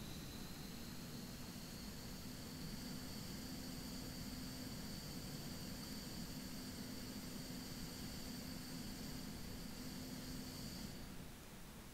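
Beechcraft King Air 350 turboprop engines in the X-Plane flight simulator give a steady, dense whine and roar with a constant high tone, running evenly for the whole stretch before easing slightly at the very end.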